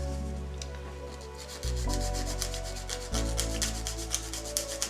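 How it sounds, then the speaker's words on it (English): A nail file rubs back and forth on acrylic nails, shaping them square, with quick, close, gritty rasping strokes that run nearly continuously over a low steady hum. "So first I'm filing it down, keeping it square."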